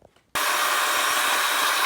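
A cheap vacuum cleaner switches on abruptly after a brief quiet moment and roars steadily at close range while sucking debris out of a filthy junkyard car interior.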